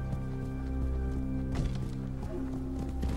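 Rapid hoofbeats clop along steadily over a sustained musical drone, a horse trotting at a brisk pace in the video game Ghost of Tsushima.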